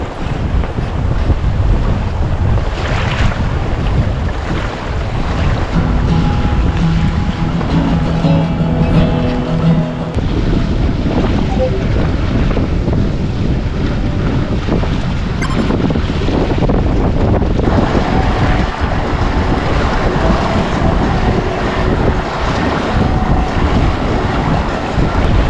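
A sailboat runs fast at about seven knots on the Texas Intracoastal Waterway, with loud continuous wind buffeting the microphone and rushing water along the hull, steady throughout with brief faint clinks.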